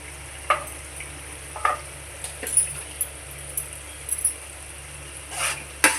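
Onion, ginger and raw turmeric paste frying in a pan, with a faint, soft sizzle broken by scattered spoon scrapes and light clinks at irregular intervals.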